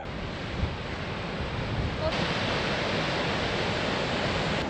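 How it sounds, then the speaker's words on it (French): Steady broadband rush of falling water from a waterfall in Tavan Bogd, Mongolia, constant and fairly loud, with no voices, close by. "Et là, on va arriver à la cascade."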